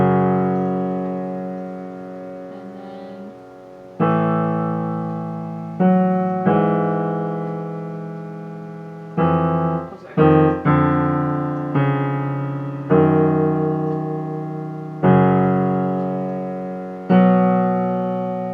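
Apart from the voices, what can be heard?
piano left hand, Rachmaninov Piano Concerto No 2 Adagio Sostenuto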